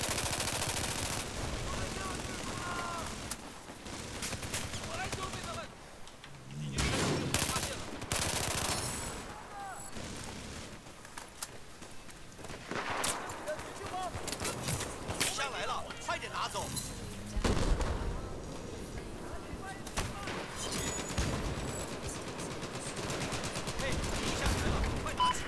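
Rapid automatic gunfire in the video game Battlefield 4, loud bursts and sustained volleys repeating across the whole span, with voices talking over the shooting.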